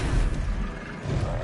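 A Confringo spell goes off in Hogwarts Legacy, a low, rumbling fiery blast with a brief whoosh, dense and boomy, sustained for a second or so before easing slightly.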